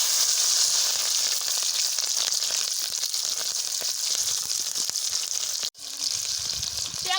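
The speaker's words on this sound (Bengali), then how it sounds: "তেল গরম হয়ে গেছে মেলে পাঁচফোড়ন দিয়ে দিন কাঁচা লঙ্কা আর পিঁয়াজ" Panch phoron spices, green chilli and onion hitting hot oil in a home kitchen, a steady loud sizzle and crackle that runs throughout, with one brief break near the end.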